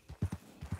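Horse hooves clip-clop in a role-play video game on a ranch, a quick run of about six close, even steps with a short gap in the middle.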